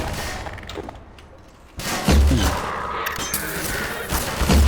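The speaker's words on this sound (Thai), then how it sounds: "ขึ้นมาแล้วก็มายิง โอ้โหกระสุนกระสุน" Rapid gunfire from the video game Half-Life 2 bursts in after a quieter stretch, with dense repeated shots and heavy booming impacts that continue loud to the end.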